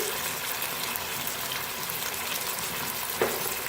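Cumin, cinnamon and black cardamom fry in oil in a pan while being mixed, a dense continuous sizzle with one brief scrape near the end, no voices.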